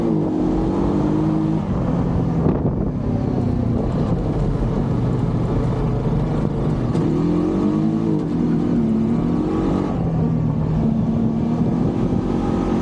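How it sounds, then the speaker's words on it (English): Honda Pioneer 500 side-by-side with a dual clutch transmission drives steadily, its engine droning continuously up close with shifting pitch as it changes gears, no talking over it. "it's really fun to drive with that dual clutch transmission because it just goes and it shifts."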